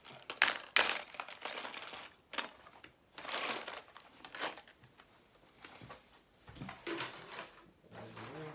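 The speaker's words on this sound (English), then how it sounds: "I'm just gonna pick up my extra bolts and stuff here" Loose metal bolts are gathered and handled during a Zenus platform bed installation, giving close, irregular clinks and jingles with rustling and sliding between them, in fits over several seconds.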